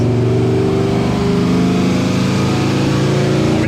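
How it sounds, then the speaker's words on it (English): A car fitted with a Cadillac CTS-V engine roars steadily at high revs while spinning on dyno rollers, a loud, close, continuous drone throughout. "the car is spinning on the rollers."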